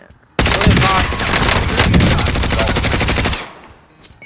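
Rapid automatic gunfire from the video game Warzone, a loud sustained burst of closely spaced shots lasting about three seconds before cutting off, with a faint voice underneath.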